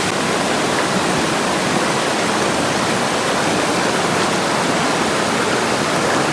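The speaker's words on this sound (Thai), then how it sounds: "แม่น้ำอันนี้นะคะก็คือจะมาจากในหุบเขาแบบนี้เลยนะคะ" A mountain river pours down out of a valley in a loud, unbroken rushing roar, a dense wash of water noise with no pauses and no voices.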